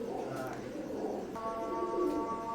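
Cooing of Oman-bloodline KTM Teddy pigeons, soft and continuous, with a steady low throaty murmur running under background chatter and ambient noise.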